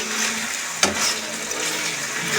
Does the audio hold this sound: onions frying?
yes